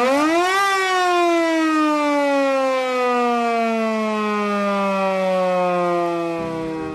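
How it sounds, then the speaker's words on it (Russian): Electric civil defense siren switched on for a test from a building rooftop, a loud sustained tone that rises quickly, then slowly sinks in pitch over several seconds before cutting off. "Дважды в месяц он поднимается на крышу зданий и включает сирену на 3 секунды."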